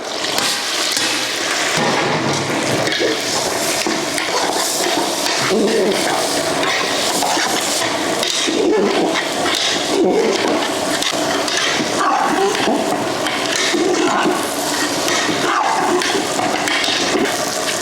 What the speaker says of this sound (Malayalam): കഴുകി വെച്ചിരിക്കുന്ന കൈമ റൈസ് ഇടാം ഒന്ന് വറുക്കാൻ വേണ്ടിയാണ്